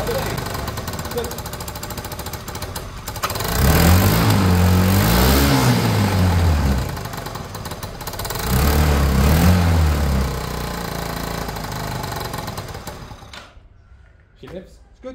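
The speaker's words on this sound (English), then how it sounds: "we're going to be hearing the engine from there" A Peugeot Tweet 125cc scooter engine, freshly rebuilt top end, runs loud and close in two sustained bursts of revving with a buzzing, rattling tone, settling to a lower idle between them before cutting off near the end.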